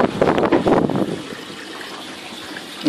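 Water pouring from a pipe into a 5-gallon pail in an aquaponics grow bed system, a loud gushing splash at first that settles into a softer, steady trickle, with no voices.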